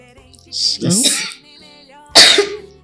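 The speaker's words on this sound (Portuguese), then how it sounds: "Tosse." Two sharp, close coughs, a short burst followed by a second longer one, then a single harsh cough after a pause.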